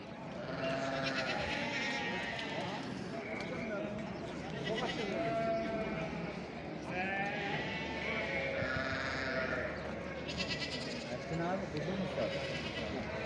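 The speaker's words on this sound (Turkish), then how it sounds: "burada bir keçi grubu var" A group of goats bleating at a small-livestock market in Çorum, Turkey, with repeated overlapping bleats from several animals close by over a busy crowd and people talking throughout.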